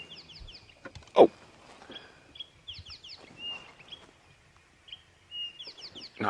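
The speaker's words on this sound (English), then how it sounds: "Now I can hear some nice bird calls around that dead tree." Bird calls around a dead tree at dawn on a safari drive: repeated bright chirps and trills at moderate distance, recurring in small bursts over quiet ambient background with a brief louder knock.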